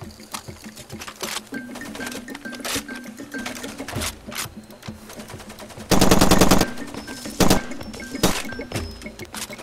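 Automatic machine gun fire in the shooter Far Cry 2, loud sustained bursts with a long dense rattle near the middle, mixed with scattered single shots, thuds and game ambience throughout.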